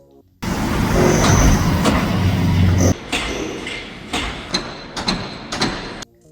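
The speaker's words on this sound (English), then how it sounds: "There's construction." Construction work on a downtown Toronto street in February, with a loud steady machinery rumble for a few seconds followed by several sharp banging impacts over lighter traffic noise.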